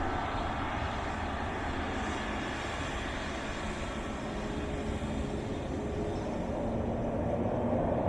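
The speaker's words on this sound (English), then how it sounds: "Boeing Max." Boeing 737 Max airliner at Dublin Airport, a steady broadband engine roar heard from a distance outdoors, holding level and rising slightly at the end.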